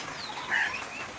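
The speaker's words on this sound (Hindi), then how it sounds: "तभी पंखों के फड़फड़ाने की आवाज आती है" A crow's wings flap in a rainy forest, a brief soft fluttering burst peaking near the middle, fairly close and alone without any voices.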